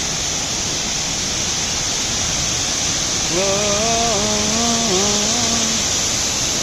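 A steady roaring rush of falling water at Kothapalli waterfall fills the whole clip, with a brief tonal voice-like sound rising over it midway.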